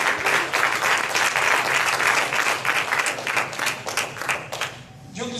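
A church congregation applauding during a Sunday morning service, a continuous loud patter of many hands that thins and fades out near the end.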